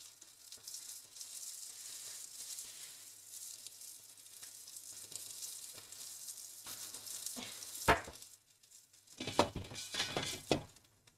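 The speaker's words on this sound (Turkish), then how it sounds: "Bir tek eti kızartıyorum." Hamburger meat sizzles and spatters in a frying pan with a constant crackle, broken by stirring and a few sharp clinks of utensils against the pan, nearby and moderately loud.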